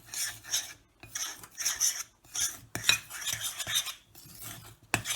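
A knife stirs drops of water into flaky pastry dough in a bowl, giving quiet scraping and rasping strokes in short bursts with brief pauses between them.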